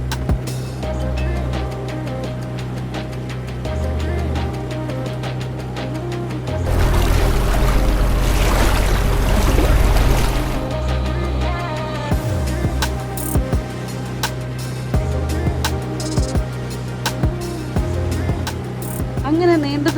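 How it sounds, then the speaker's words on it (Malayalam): A passenger boat moves from a canal out onto Vembanad lake in Kerala, its engine hum and water wash swelling into a loud rush midway, with people talking throughout. "ബോട്ട് കനാലിൽ നിന്നും കായലിലേക്ക് പ്രവേശിക്കുമ്പോഴുള്ള കാഴ്ച നമുക്ക് എത്ര കണ്ടാലും മടുക്കില്ല."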